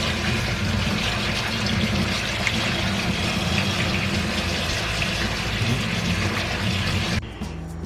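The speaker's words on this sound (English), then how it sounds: "So I'm going to wash this off." Running water rinses brine off canned ackee held in a colander, a steady close wash of pouring and splashing that continues unbroken for about seven seconds, then cuts off to a quieter hum.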